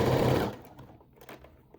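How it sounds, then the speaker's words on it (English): A sewing machine stitches the side seams of a halter neck tie dress, whirring briefly and loudly at first before stopping, leaving faint handling noises. "Sew both sides with a 1 cm seam allowance."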